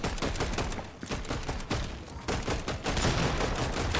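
Gunfire in a Solo Cash Cup battle: rapid, dense shots crackle continuously for several seconds, loud and close, with only brief gaps between bursts.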